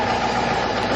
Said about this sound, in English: you hear a steady flow out of the exhaust